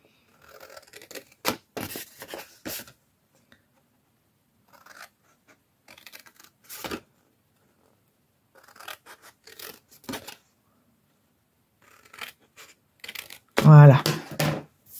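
Scissors cutting paper for an advent calendar train craft: short bursts of snipping and rustling separated by silences, close-up, ending with a louder crinkle, and a voice speaking at times.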